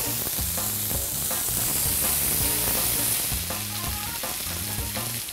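Steady, dense sizzling of meat frying in a hot pan, continuous and fairly loud with faint crackles throughout, no voices.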